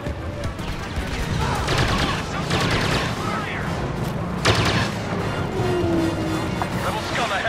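Battle din from Star Wars Battlefront: rapid blaster fire and bursts crackle over a rumbling backdrop, with one sharp blast standing out, while voices talk over the fighting.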